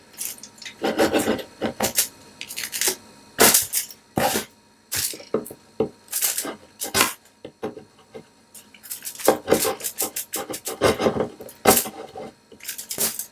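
Wood edges of a handmade DIY sign being nicked and distressed with a tool, producing irregular bursts of scraping, rasping and knocking, close up, separated by short pauses.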